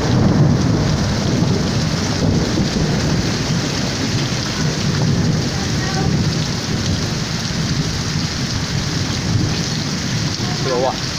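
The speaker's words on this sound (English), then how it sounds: "Look at that wind, so rain coming down. On the wind." Heavy rain pours and wind gusts during a Houston thunderstorm, a loud, continuous close wash of sound with thunder rumbling beneath.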